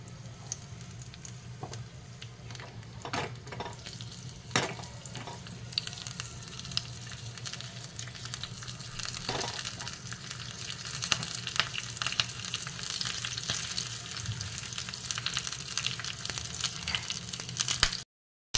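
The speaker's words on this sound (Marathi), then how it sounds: "आपले तापलेले आहे त्याच्यामध्ये ह्या मिरच्या सोडतात।" Green chillies sizzling steadily in hot oil for a tempering, a continuous close frying hiss with occasional sharper pops and spatters throughout, no voices.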